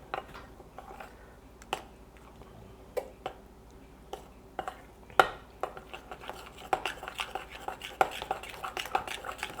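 Beaten eggs being stirred into cornbread batter by hand in a bowl, soft repeated scraping and clicking of a spoon against the bowl, quiet and close, with faint low voices under it.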